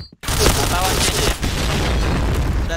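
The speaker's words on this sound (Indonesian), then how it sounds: "bom ke dalam." A bomb goes off in a video game: a loud, sustained blast rumble fills the clip right after a brief quiet start, with a low voice faintly under the roar.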